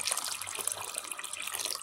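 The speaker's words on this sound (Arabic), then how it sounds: "ممكن نزود الرز عندنا هنا شويه ميه" Water poured into a pot of rice for a homemade biryani: a soft, steady trickling pour, faint and close, continuing without pause.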